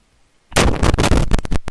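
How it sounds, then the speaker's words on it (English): A bomb explodes in the battle game Totally Accurate Battle Simulator: after a near-silent moment comes a sudden loud blast that breaks into a crackling, popping roar with several sharp bursts before it cuts off. "Oh, there's the bomb."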